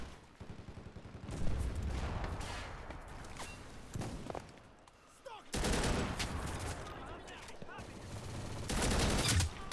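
Gunfire in a multiplayer shooter game comes as faint, scattered bursts and volleys of shots at a low level, with quieter gaps between them and a short louder stretch near the end.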